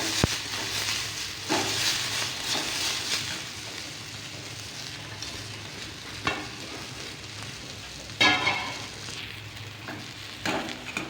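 Chopped onion and tomato frying in a pan for a drumstick curry masala, with a steady close sizzle broken by occasional stirring scrapes and no voices.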